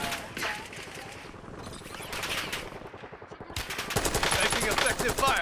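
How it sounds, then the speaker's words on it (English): Gunfire rattles through a Warzone-style battle royale video game match, with rapid automatic bursts that grow louder and denser toward the end, layered over game sounds. "Taking effective fire."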